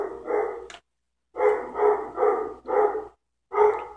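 A dog barking nearby in a home kitchen, five loud barks in a broken rhythm with short pauses between them and nothing else underneath.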